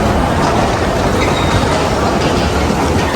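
A New York subway train rumbles and clatters loudly into a station platform, a dense, continuous roar of wheels on rails with metallic rattling, close by and filling the whole moment without any talk.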